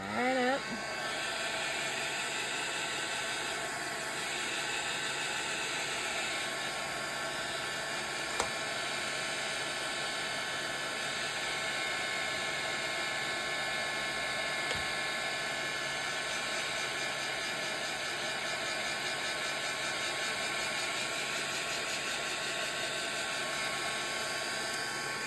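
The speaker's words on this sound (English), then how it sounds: "we'll shoot it with a little bit of heat to dry it up" A heat tool blows hot air to dry watercolor paint, producing a constant loud whooshing hum with a steady pitch that runs unbroken for about twenty-five seconds.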